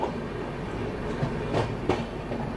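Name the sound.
train hauled by WAP-7 electric locomotive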